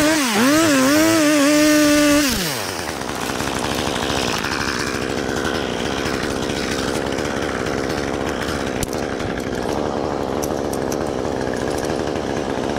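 A chainsaw revs at high pitch for about two seconds, then bogs down into a rough, steady snarl as it cuts through a tree branch during tree felling with a 3.5-tonne winch, loud and close throughout.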